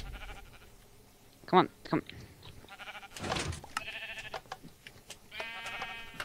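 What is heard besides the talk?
sheep bleating in Minecraft video game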